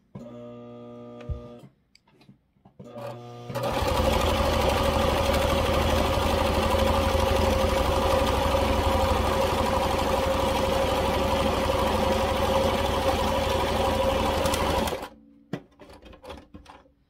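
Stitching fabric for a gnome, a sewing machine hums in one long, steady, close run of about eleven seconds, with a quiet lift-and-turn pause before it and brief handling noise after.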